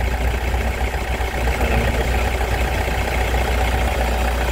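A car engine idles steadily while a used car is inspected, giving a continuous low, even hum at close range with no talking.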